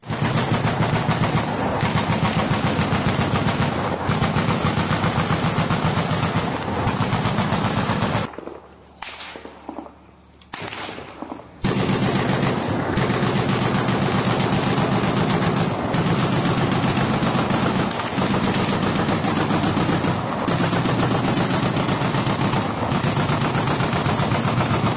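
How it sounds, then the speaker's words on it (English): Guns engaging Russian troops near Soledar, supported by a Wolfhound MRAP: sustained loud, rapid automatic fire with a steady engine rumble beneath, broken by a short lull before the heavy firing resumes. "So you can hear those guns absolutely getting the work done there"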